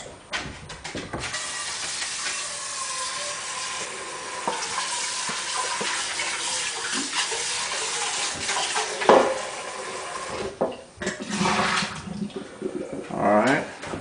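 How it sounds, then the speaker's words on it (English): Water runs steadily into a big pan as it is rinsed out, a close, continuous rushing splash that swells and clatters briefly toward the end. "Over here in the big pan, I'm going to go ahead and rinse this out."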